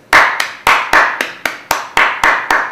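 A single person claps steadily, about ten close, loud claps in an even rhythm, each with a short ringing decay, with no other voices.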